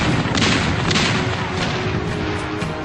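Naval gunfire from warships in the Battle of Angamos, a dense, continuous roar of booming artillery with repeated heavy blasts, loud and close throughout with no clear pauses.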